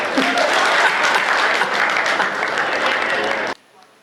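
A large audience at a Hindi shayari poetry recital claps loudly and continuously for several seconds, the steady wash of many hands stopping abruptly near the end into quiet room tone.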